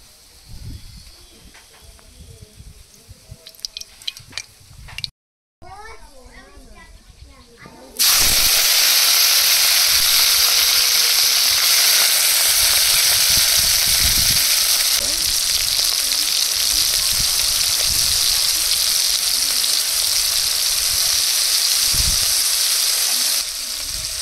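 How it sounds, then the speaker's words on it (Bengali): Prawns go into hot mustard oil in a wok. After a quieter opening of light clatter and a brief gap, a loud, dense sizzle bursts in and roars steadily to the end. "কড়াইতে সরিষার তেল দিয়ে এবার চিংড়ি মাছগুলো ভেজে নেব।"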